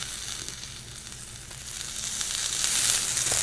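A spicy shrimp quesadilla with melted cheese sizzles steadily in a pan as it is pressed down, the frying hiss close and swelling louder toward the end, with no talking.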